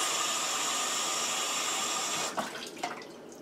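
Cold water pours from a tap into a half-cup measuring cup in a home kitchen, a steady close hiss that cuts off partway, followed by a couple of soft clinks and splashes.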